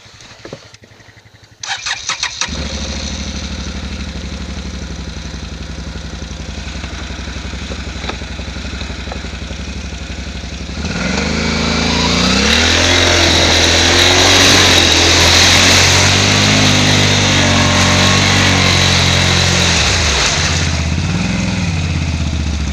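A Can-Am Renegade 570 XMR ATV on 31-inch tires starts up and idles, then revs harder as it climbs through a hole, its engine loud and close throughout.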